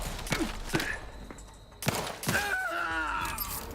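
A gunshot headshot in The Outer Worlds 2 video game: a few sharp game gunfire bursts with impact effects and short whooshing tones, moderately loud, with brief vocal sounds.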